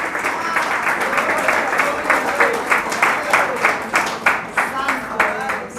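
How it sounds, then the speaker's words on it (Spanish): A church congregation applauding at a Christmas service, dense loud clapping that settles into a rhythmic beat, with voices mixed in the crowd. "vamos a darle un aplauso bien fuerte a nuestro Señor en esta Navidad"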